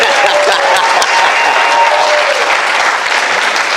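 A studio audience on a talk show claps loudly and steadily, a dense, continuous wash of applause that holds without letting up.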